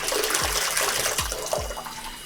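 Water running through saltwater aquarium return plumbing makes a steady broadband rush, with a few low gurgling thumps from the pipes near the start and middle.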